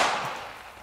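A single gunshot striking an aluminum and stainless steel armor plate, one sharp bright crack that decays quickly into a fading ring, heard alone.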